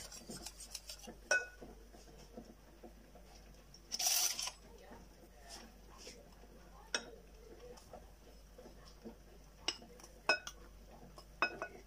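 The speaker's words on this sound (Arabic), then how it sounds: "نخلط الخليط مزيان" A spoon scrapes and clinks against a bowl while cocoa and flour are mixed into chocolate cake batter, with scattered light taps and one brief high ring, fairly quiet and close.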